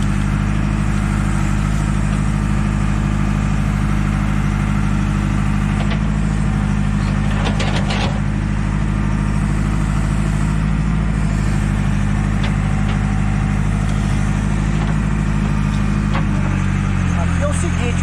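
A backhoe engine runs steadily while the machine digs in water, a loud, close, constant low rumble that shifts slightly near the end, with faint clanks now and then.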